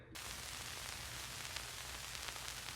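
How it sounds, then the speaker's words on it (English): Static noise sample from a drum kit layered into an indie-style beat: a dense, steady crackling hiss that starts abruptly and stays even, with faint low tonal bass underneath. "I have this static thing."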